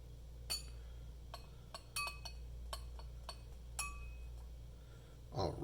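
A spoon stirring liquid in a glass during a pH indicator demonstration: a series of sharp, bright clinks against the glass, irregularly spaced over steady low background hum, with no talking.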